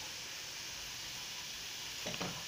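Sliced onions fry with salt in a pan on a Kerala stove, giving a steady close hiss of sizzling oil. A brief scrape of stirring sounds near the end, and no one speaks.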